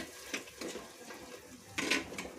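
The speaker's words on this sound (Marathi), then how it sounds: "तर याच्यामध्ये थोडंसं पाणी टाकून घ्यायचं मसाला मिक्स करायसाठी" A little water poured into a cooking masala for homemade handi chicken, soft splashes and a few clinks of utensils in short bursts, quiet and close.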